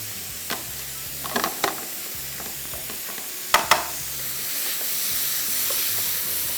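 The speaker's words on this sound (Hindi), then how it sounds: "इसको हम थोड़ा सा तेज़ आंच पे करेंगे फ्राई" An omelette with green chillies fries on high heat, a steady broad sizzle carrying on throughout, with a few sharp scraping stirs and taps of a spatula near the middle.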